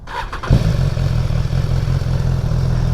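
A motorcycle engine cranks briefly and catches, then settles into a loud, steady, low idle rumble close by.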